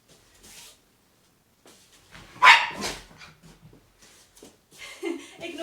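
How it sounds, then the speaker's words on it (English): A pet dog barks indoors during a home taekwondo class, with a few sharp yelps standing out loudly amid sporadic instructor talk and softer movement noises. "Ignore my dog."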